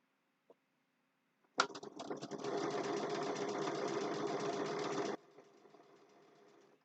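Sewing machine stitching a snowman face mug rug: a faint click, then a steady loud motor whir with rapid needle chatter for about three and a half seconds before it stops abruptly, leaving a low hum.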